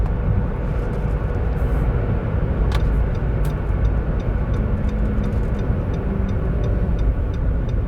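Inside a Nissan Micra with a CVT automatic gearbox, a steady, loud drone of engine and road noise fills the cabin as it gathers speed, with faint rhythmic ticking above.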